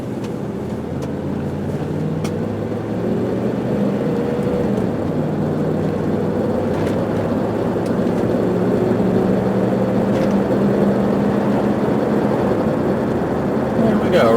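A 1997 Ford Expedition Eddie Bauer AWD with a 4-speed automatic in 2-wheel drive cruising down the road, a steady low engine and road hum from inside the cabin.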